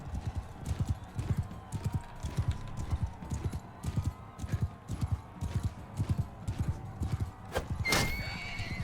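Rapid rhythmic clip-clop of galloping horse hooves in Mount & Blade Bannerlord, steady and close throughout, with a sharp neigh near the end.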